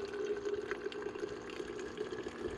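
Faint, continuous trickle and hum of a small rechargeable lithium-ion electric water pump filling a water bottle at a car campsite, steady throughout with no voices.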